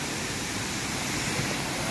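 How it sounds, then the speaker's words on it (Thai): Tat Ton waterfall in Chaiyaphum after rain, a close, steady roar of falling water that holds evenly with no other sounds. "นี่ตรงนี้คือไฮไลท์ของน้ำตกเลยนะครับ"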